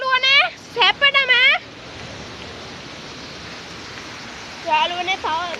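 A waterfall roars as a steady, dense hiss throughout, loud and close, with voices talking over it at the start and again near the end.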